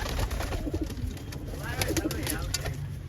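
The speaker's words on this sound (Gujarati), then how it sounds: "3 કબૂતર ઉડાડ્યા હતા એ આવી ગયા છે" Pigeons just back from flight cooing in low, soft bursts at a coop, faint under a steady background hiss and a voice talking.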